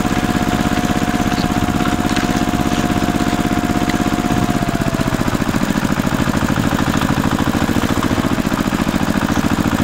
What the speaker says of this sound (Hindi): चलो हम इस ट्रैक्टर को चलाएंगे बच्चों।